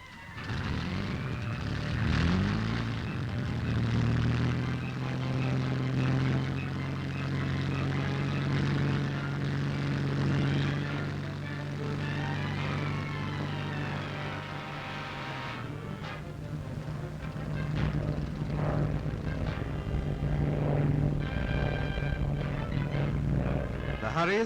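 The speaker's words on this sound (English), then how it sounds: "The Hurries take to the air, and it's not long before they see their target below them." Hawker Hurricane fighters climb away with a droning propeller engine roar that holds steady and shifts pitch partway through, under wartime newsreel narration and music.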